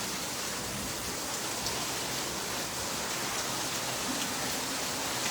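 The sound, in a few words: heavy rain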